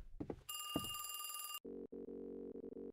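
A telephone in a horror video game rings with a bright metallic bell trill after a couple of soft thuds, then gives way to a low steady hum.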